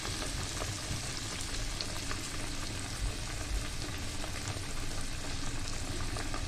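Breaded chicken panne frying in hot oil, a steady dense sizzle and crackle that holds evenly throughout with no voices.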